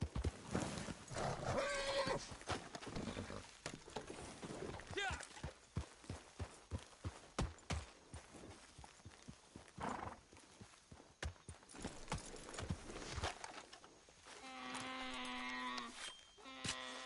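Horses in the video game Red Dead Redemption 2 clip-clop and whinny amid gunfire and other game effects, hoofbeats close and uneven, with a person talking over much of it.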